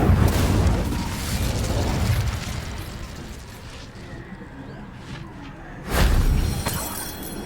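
An Incendio fire spell in Hogwarts Legacy goes off as a loud booming burst that rumbles and fades, then a second sharp blast erupts near the end.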